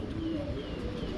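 Danish pigeons coo softly at a pigeon market, a faint, low, murmuring call heard briefly against a dull background hum.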